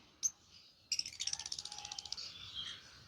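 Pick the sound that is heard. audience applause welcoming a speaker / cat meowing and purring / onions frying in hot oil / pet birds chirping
pet birds chirping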